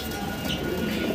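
Pigeons in a breeder's loft, including a blue barless Danish pair, coo softly against a steady background hum, with no speech.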